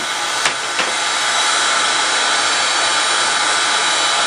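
A heat gun blows a steady, loud broadband rush of hot air to set clear embossing powder until it turns shiny, with two brief clicks near the start and no talking.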